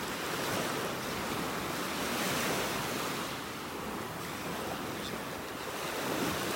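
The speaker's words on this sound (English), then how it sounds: "Pretty churned up this morning with these waves." Churned-up ocean waves break on a North Naples, Florida beach at high tide, a constant loud wash of surf with gentle swells, mixed with wind rush against the microphone and no voices.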